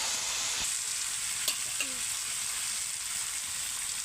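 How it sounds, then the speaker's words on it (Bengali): Green jackfruit frying in a pan for a jackfruit and prawn curry, a soft steady sizzle with a couple of faint utensil clinks. "ভালো করে এখন কষিয়ে নেবো এইভাবে।"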